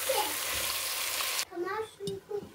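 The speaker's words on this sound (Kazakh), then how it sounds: "И осындай томат саламыз и сосын қуырамыз." Tomato frying in a pot as part of a quick home-cooked lunch, heard as a loud steady sizzle that cuts off abruptly, followed by a voice speaking close by.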